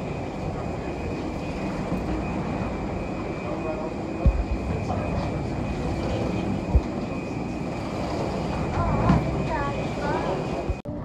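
Airplane cabin before takeoff on a flight from Frankfurt to Dusseldorf, with a steady broadband engine and ventilation hum, a constant high whine, a few sharp clicks and soft background chatter throughout.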